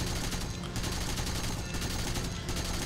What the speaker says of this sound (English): Just unload those 30mm cannons.